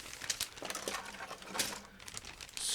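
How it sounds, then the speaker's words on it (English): A plastic bag from a 1/24 ICM GAZ-A model kit crinkles as it is opened, with small plastic sprues tapping and pattering as they fall out, close and fairly quiet. "That's why you can hear something falling out of the plastic bag."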